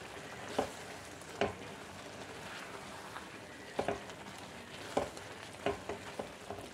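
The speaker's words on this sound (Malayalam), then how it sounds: "നന്നായിട്ടൊന്ന് ഇളക്കിയെടുക്കാം" A spoon stirs thick masala koottu curry in a pan. A few soft, scattered scraping strokes sound over a quiet simmering hiss.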